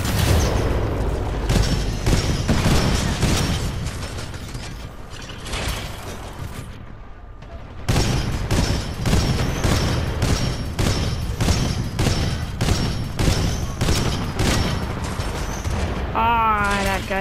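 Heavy gunfire in Titanfall 2, a long rapid series of booming shots with a brief lull midway before the firing resumes just as hard, mechanical clanks mixed in.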